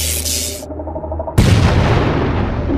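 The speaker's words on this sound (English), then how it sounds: "the explosion is too loud for me to be sure" A loud, sudden boom in a sci-fi audio drama cuts through a humming background and leaves a dense, roaring blast that rumbles on to the end.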